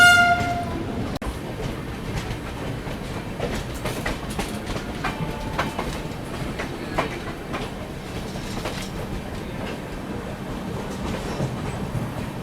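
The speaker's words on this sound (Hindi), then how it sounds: "सामने जो ट्रेन देख रहे हो ना, ये है बिहार संपर्क क्रांति, जो अभी दिल्ली से आ रही है दरभंगा के लिए" Bihar Sampark Kranti express train arriving at Samastipur Junction from Delhi, bound for Darbhanga: a steady rumble of rolling wagons with scattered clanks and brief horn-like tones, heard nearby throughout without talk.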